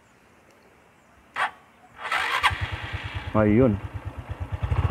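A 2017 Honda RS 125 motorcycle engine cranks and catches, settling into a steady close idle of even, rapid pulses, with a brief voice and other noises over the start.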